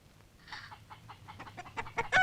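A run of quickening, clucking calls like a sick chicken, growing louder toward the end, in a Kannada comedy film scene.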